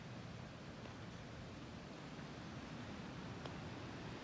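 Continuous broad rushing of water, steady and even, like a stream or surf heard alone with no voices.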